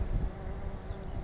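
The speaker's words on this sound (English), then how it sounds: "No wonder we're attracting bees." A low, continuous bee buzz close by, droning steadily throughout the short moment with no voices.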